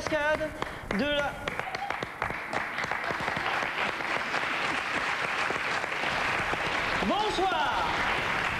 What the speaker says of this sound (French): vous pouvez applaudir Pouf le cascadeur et sa poufette